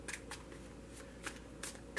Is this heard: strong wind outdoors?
no